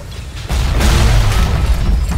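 A frag grenade detonates in BioShock Remastered, a loud sudden boom about half a second in that rolls into a sustained rumbling roar lasting the rest of the moment.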